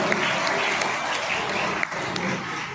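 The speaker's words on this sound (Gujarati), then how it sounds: "એને એકવાર જોરદાર તાળીઓથી વધારો" An audience at a community gathering of the Porbandar Brahmakshatriya caste's women's and youth groups breaks into loud, sustained applause, a thick continuous clatter of many hands that holds steady for nearly three seconds.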